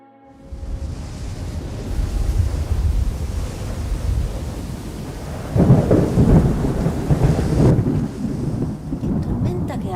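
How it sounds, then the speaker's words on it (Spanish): A summer thunderstorm in the mountains: steady rain and heavy wind rumble throughout, swelling into a louder, deeper roll of thunder midway before easing back, close and enveloping. "¿Qué tormenta que hay?"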